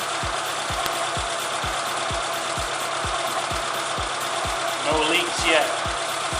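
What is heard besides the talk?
Suzuki Samurai engine idling while warming up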